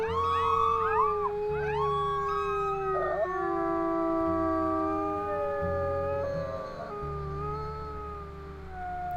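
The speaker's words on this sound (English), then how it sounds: "I hit the growl button instead of the howl button." Layered wolf howls in the survival game Ironwolf, several long rising and falling voices overlapping and sustained across the whole stretch over a low rumbling ambient bed, loud and close.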